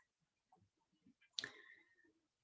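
A single sharp mouse click on a consent button, close and quiet, with faint small clicks and rustles around it in an otherwise still room.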